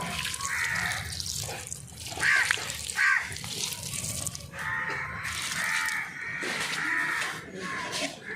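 Water poured onto papaya seedlings, a steady splashing flow that swells and eases in several pours close by, with faint voices in the background.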